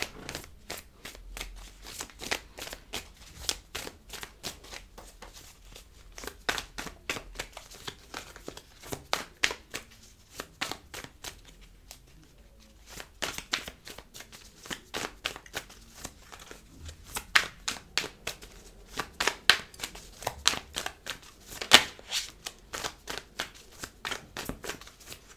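Tarot cards are shuffled and riffled by hand for about 25 seconds in a quiet room: repeated crisp flicking bursts and card slaps in uneven rhythm, close and fairly soft, with a brief lull midway and no talking.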